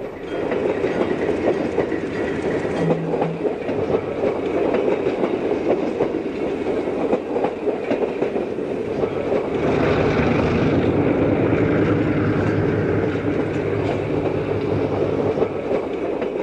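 The Central of Georgia's northbound Seminole passenger train crosses a long wooden trestle near Leeds, just east of Birmingham, making a loud, steady rumble and roar of rolling cars that swells partway through, with no speech.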